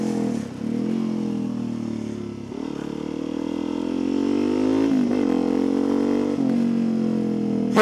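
Steady motorcycle exhaust drone while riding, engine held at a constant pitch with brief dips as the throttle eases, loud and close with wind and road noise.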